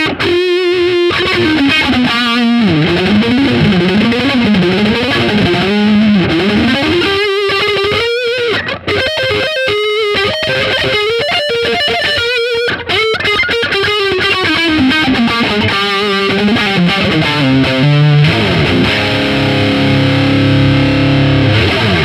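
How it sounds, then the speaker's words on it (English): Electric guitar played with heavy distortion through a passive single-coil pickup in the neck position: a dense, saturated stream of fast riffing and bending lines that ends on sustained ringing notes, loud and continuous. "let's hear what it sounds like with a lot of gain"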